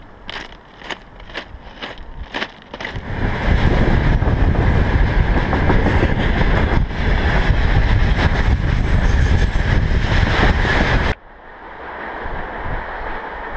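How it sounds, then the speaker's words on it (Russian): A freight train rolls past a suburban railway platform, opening with a few sharp rhythmic clicks before a loud, close roar of wagons and clattering wheels fills most of the clip, then cuts to quieter outdoor ambience. "Обогнал меня сейчас товарняк."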